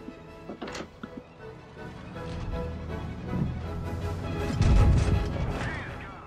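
Two cannon shots from an M3 Stuart light tank in World of Tanks Blitz thump out early, followed by rumbling impacts and a heavy low crash near the end, with faint game noise in between.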